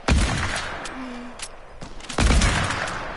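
Video game gunfire: a loud, close shot bursts at the start and another after about two seconds, with a few sharper cracks and a brief tone in between.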